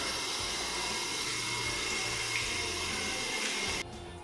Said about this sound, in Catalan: Mulla les dues mans amb aigua.